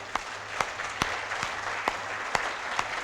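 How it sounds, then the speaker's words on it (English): A conference audience at a concluding session applauds to adopt a consensus document by acclamation; a steady wash of clapping runs throughout with a few sharper individual claps standing out, moderately loud and fairly close, without talk. "those who agree, please clap or raise your hand"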